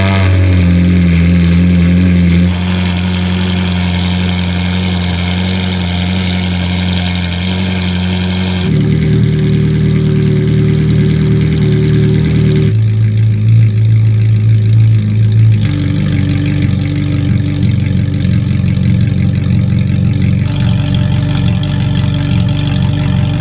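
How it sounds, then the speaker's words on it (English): A Ferrari 458 fitted with S-line straight pipes idles warm, a loud steady low rumble held close to the microphone, with the idle pitch shifting slightly a few times and no one talking. "Warm idle, and we're just waiting for the temperature to come up so we can actually rev it."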